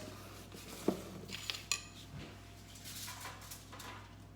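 Metal baking tins gathered from a kitchen counter for a honey cake, a few sharp clanks and clinks of tin against tin, spaced irregularly over a faint background hum.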